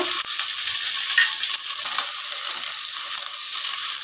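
Small shallots with curry leaves, garlic, cumin and fennel seeds fry in hot oil, a loud continuous bright crackling sizzle heard up close without interruption and with no voices.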